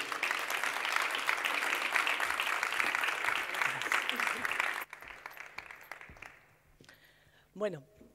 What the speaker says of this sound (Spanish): Un fuerte aplauso para recibir a Ariadna García